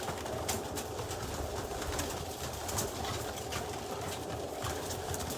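Pigeons coo at a racing pigeon loft during race trapping, with soft, continuous cooing over steady background noise and no clear foreground voice.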